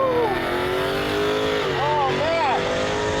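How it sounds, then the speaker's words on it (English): Supercharged Dodge Challenger Hellcat Demon 170 accelerating hard down a quarter-mile drag strip, a loud continuous engine roar with rising and falling rev sweeps and supercharger whine heard from inside the car. "I think all Hellcats have superchargers, but it sounds great."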